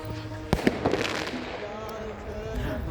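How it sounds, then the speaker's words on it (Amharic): Fireworks crackle and pop in a snowy German city centre after New Year, a few sharp bursts close together near the start, then a steady outdoor rumble with voices in the background. "አንዳንድ ሰዎች አሁንም ድረስ ርችት ያደርጋሉ።"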